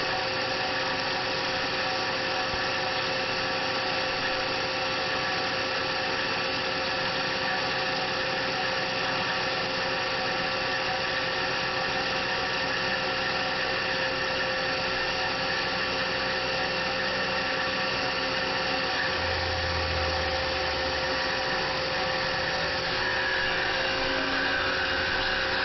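Close and steady, a Tormach PCNC 1100 CNC mill cuts at 3000 RPM, a smooth, even machining whine with a constant hum underneath and a fairly quiet, chatter-free tone, with no voices.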